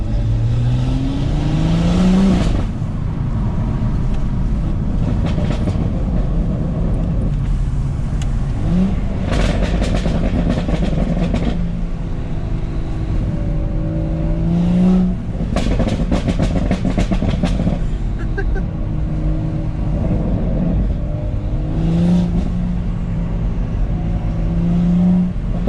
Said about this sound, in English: let's get some sound clips in of the decat.